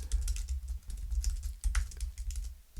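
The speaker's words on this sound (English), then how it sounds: "So to do that, just type in something like," Quick, steady typing on a computer keyboard as text goes into a document, with dense close key clicks over a low background hum.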